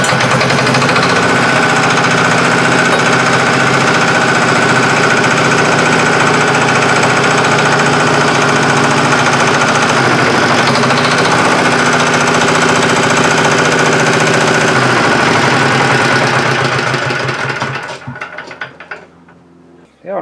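The engine of a vintage cement mixer runs with a loud, steady mechanical clanking and geared rattling that keeps up a fast, even rhythm, then cuts out and dies away near the end.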